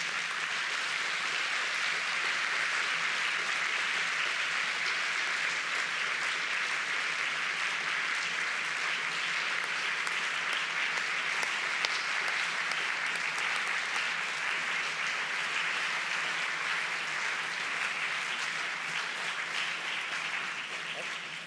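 Sustained, dense applause from a large audience honoring a departing college president of the RCP, an even wash of many hands clapping at constant loudness for over twenty seconds.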